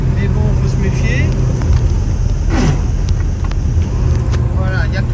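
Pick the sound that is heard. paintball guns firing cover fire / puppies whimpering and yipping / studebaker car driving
studebaker car driving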